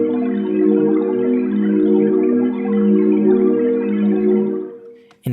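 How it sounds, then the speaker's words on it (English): A bubbling pad patch built in the Massive X synthesizer holds steady, dense harmonic tones with a busy, burbling shimmer on top, playing continuously before fading out near the end. "how to create a bubbling pad using Massive X"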